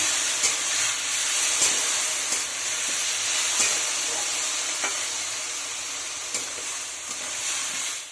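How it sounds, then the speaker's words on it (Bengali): Moong dal and vegetables sizzle and hiss while frying in a pan, with a steady loud frying hiss broken by regular scrapes and clicks of stirring, no voices. "দিয়ে আবার খানিকক্ষণ ভালো করে ভেজে নেব।"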